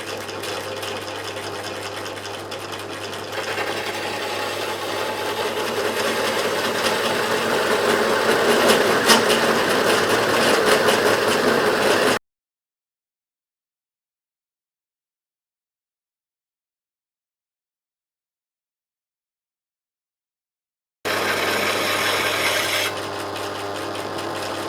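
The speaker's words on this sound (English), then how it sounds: "drop the stone back down and run it through again" Grinding stone run along a machine V-rail, a loud, rasping continuous scrape that builds slightly as it travels, cuts off into complete silence, then returns briefly.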